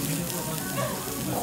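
Yakiniku meat, including sesame-coated cuts, sizzles steadily on a grill at a Japanese hormone barbecue restaurant, a dense continuous crackle with a voice murmuring beneath it.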